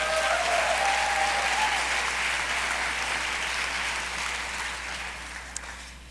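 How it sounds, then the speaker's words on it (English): Audience applause with a few light cheers for Vegetarian Hall of Fame inductees, a full, even roar of clapping that slowly thins toward the end, with a speaker's voice briefly audible at the start. "let's go ahead and give them a cheer"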